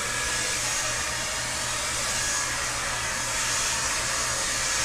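An 1875-watt hair dryer blows continuously, a loud, steady airy rush with a constant motor hum that holds evenly throughout, with no talking.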